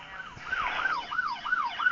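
A police car siren in the video game Dude Theft Wars wails in a fast, repeating up-and-down sweep, loud and close, sounding with no voices.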